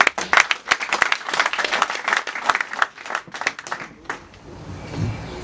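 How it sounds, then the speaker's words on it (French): Applause from an audience at a municipal council project presentation in Akanda, dense overlapping claps filling the room, thinning toward the end as a low murmur rises. "Je veux qu'on applaudisse pour Réginald."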